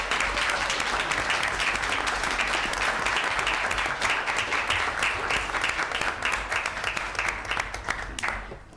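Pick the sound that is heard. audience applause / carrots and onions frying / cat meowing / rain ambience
audience applause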